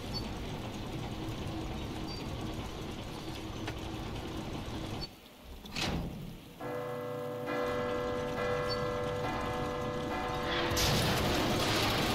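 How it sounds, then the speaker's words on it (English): A gear-driven bell mechanism rings inside the Resident Evil video game, a sustained metallic chime with bright harmonic overtones rising after a short mechanical clunk, standing loud over a steady background hum. "That'll ring the bell"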